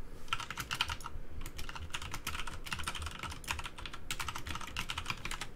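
Rapid, close typing on a computer keyboard clatters nonstop in dense bursts of key clicks during RuneScape gameplay, with no talk over it.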